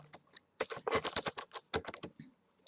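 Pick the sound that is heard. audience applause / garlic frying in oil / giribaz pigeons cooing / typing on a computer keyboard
typing on a computer keyboard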